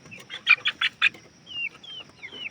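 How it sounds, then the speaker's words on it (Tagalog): Young month-old chickens on a farm give a few bright clucks and peeps in a quick cluster, followed by thinner chirping calls, moderately close with no talking. "malaki rin to mga manok na to"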